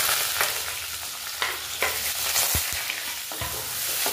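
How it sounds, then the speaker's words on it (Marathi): Finely chopped onion frying in a pan of hot oil with curry leaves for a dry cabbage dish, a steady close sizzle broken by several sharp scraping stirs of a spatula, with no voices. "आता आपण याच्यामध्ये घालू बारीक चिरलेला कांदा।"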